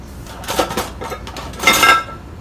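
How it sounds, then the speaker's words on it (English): Macaroni noodles stirred in a pot of boiling water give two bursts of scraping and clinking, a shorter one then a louder one, close by with no talk. "Stir them up so it don't get stuck."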